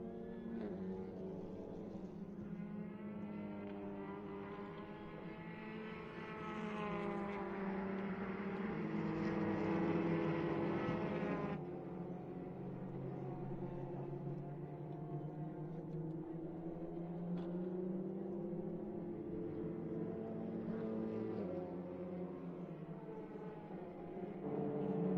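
Engines of TCR touring race cars at the Grobnik circuit roar continuously as they run nose to tail, a strong droning wail that rises and falls in pitch with gear changes, with no talking.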